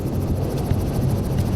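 Helicopter in flight over a South African game reserve during an operation to dart escaped cheetahs, a steady loud rotor thrum with rhythmic blade chop and engine drone throughout, no voices.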